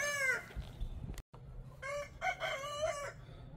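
Turkeys on a farm in cold, rainy weather give a series of close, warbling harmonic calls in short bursts, separated by a brief silence, with no talking.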